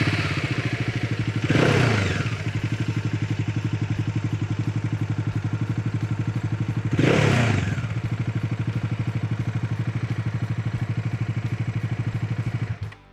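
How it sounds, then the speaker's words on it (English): Bajaj Dominar motorcycle with stock silencer and catalytic converter, a steady, rhythmic exhaust thrum at idle with two brief swells of revving, moderately loud and close, no voices. "It also has a lovely exhaust note, even with the stock silencer and catalytic converter and everything"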